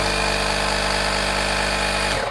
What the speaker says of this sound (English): and it will start, and you can use the high air compressor at this side and fill up with air any tire, inflatable items